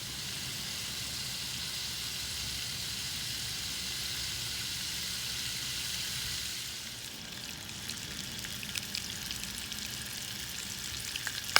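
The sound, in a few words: food frying over a Dakota fire hole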